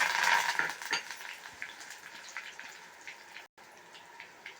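Spicy cut dough pieces for a kalakala snack fry in hot oil, a soft steady sizzle with light stirring and utensil clinks, loudest at the start and fading to a gentle crackle.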